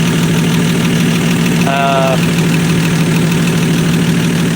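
A 1965 Dodge Dart's 225 slant six idles loudly up close through a straight pipe with no muffler, giving a steady, throbbing rumble with a brief higher whine midway, and a voice talks over it.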